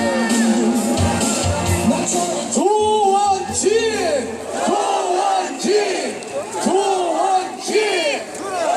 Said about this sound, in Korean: 박수 환영해주세요